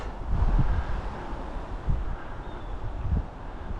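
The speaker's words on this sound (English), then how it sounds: "The wind blows from the north, maybe northeast" Wind blowing from the north on an open outdoor trail toward Lynn, heard as a low, gusty rumble buffeting the microphone in several rising and falling surges.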